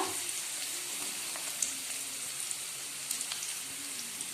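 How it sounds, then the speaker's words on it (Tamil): Onion sautéing in oil in a pan for a banana flower thoran, a steady soft sizzle with faint crackles, moderately quiet and continuous with no talking. "வெங்காயம் வதங்கட்டும்."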